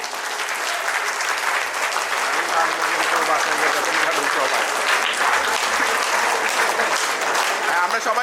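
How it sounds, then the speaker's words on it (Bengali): Sustained applause from a crowd at a company's annual picnic gathering at an amusement park, steady and loud clapping throughout with no break, a few voices mixed in underneath. "যান যান যান করতালি চলতেই থাকবে"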